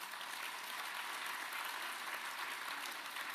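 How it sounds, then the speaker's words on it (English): Conference audience applauding the moderators during closing remarks, a continuous, even patter of many hands at low volume, heard from afar for a few seconds. "Please applaud our moderators"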